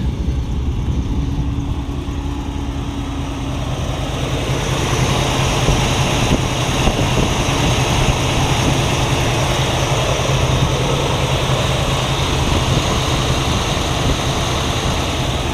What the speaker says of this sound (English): Engine's idling really smooth.